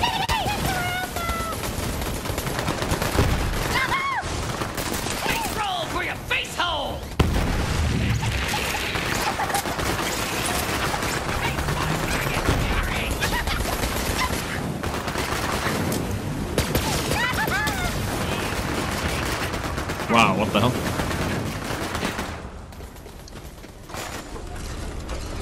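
Rapid bursts of gunfire from clones shooting in the Borderlands 3 game, with dense fusillades, mechanical clatter and crashes running nearly continuously, loud and close, with a voice talking over parts of it.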